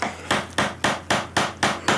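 A hammer driving a brad nail into bamboo used for woodworking, eight sharp evenly spaced strikes in quick succession, close and clear with no talking.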